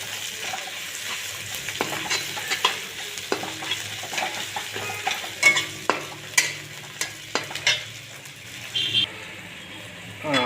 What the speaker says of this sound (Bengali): এটাকে নিয়ে একটু ঘেটে দেবো।